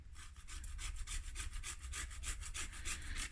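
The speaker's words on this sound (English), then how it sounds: "Just a quick grating of nutmeg" Whole nutmeg grated by hand for lasagna, a steady rhythmic rasping of quick back-and-forth strokes, close and continuous with no voices.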